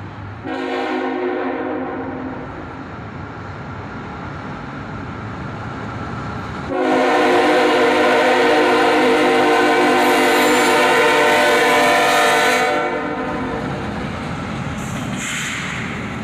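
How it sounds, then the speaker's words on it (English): Southbound autorack freight train led by two ET44AH locomotives sounds its horn in long, loud blasts, one short then a sustained one, over heavy rumbling as it passes close by outdoors. "Dual ET-44 AHs, leading a southbound autorack train."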